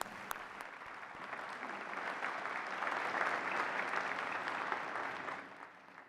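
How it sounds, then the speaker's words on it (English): Graduates at a college commencement ceremony receive a sustained round of applause from the crowd, swelling gradually toward the middle and fading near the end, with no talking over it. "I'd like to give them a round of applause for having to put up with everything they've had to."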